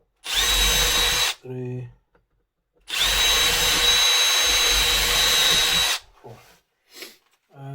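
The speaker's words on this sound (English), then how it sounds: "I have drills on the size that I need" A power drill boring holes in wood for a vegetable basket: two loud whirring bursts, one short and one about three seconds long, each with a brief count spoken between them.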